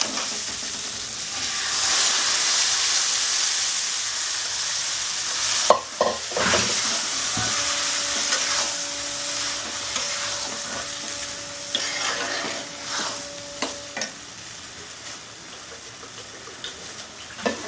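Chana dal with turmeric going into a hot pan and being stirred, giving a bright sizzle and spatula scraping, with a sudden burst of frying partway through and intermittent clatter, close and loud with no voices.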